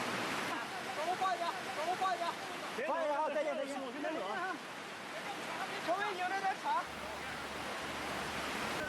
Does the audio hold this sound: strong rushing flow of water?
yes